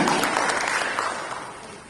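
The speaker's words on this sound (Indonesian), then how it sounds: "Mari kita berikan tepuk tangan yang meriah kepada Bapak Aditya Jaya Antara" Applause from an audience at an Indonesia Stock Exchange market-opening ceremony, a broad steady clapping wash that fades slightly over two seconds.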